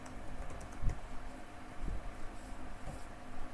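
A few keystrokes are tapped on a computer keyboard to enter a Maven version command, with soft, sparse clicks and a couple of firmer thumps over a quiet room hum.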